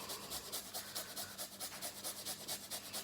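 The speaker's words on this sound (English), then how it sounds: "So get all that rind off and grate that in as well." Fresh ginger, peeled of its rind, rubbed against a grater in a rapid, steady back-and-forth rhythm of short rasping strokes, close and fairly quiet, with no talking.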